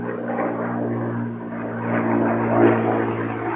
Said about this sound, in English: the aeroplane that is going over, you can forgive the noise because it happens to be a Spitfire